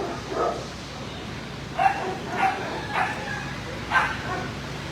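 Dogs in an animal shelter kennel bark in four or five separate sharp bursts spread across the clip, mixed with yips and a faint whimper, over a steady background hum; a voice may be faintly present.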